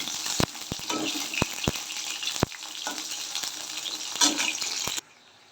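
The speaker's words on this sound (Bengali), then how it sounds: "বেগুনগুলো ভাজা হয়ে গেছে এবার তুলে নেব" Eggplant pieces fry in a pan of oil for shukto with a close, steady sizzle and a few sharp spatula knocks, then stop abruptly near the end.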